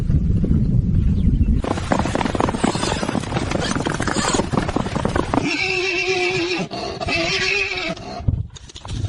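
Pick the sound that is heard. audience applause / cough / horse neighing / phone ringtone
horse neighing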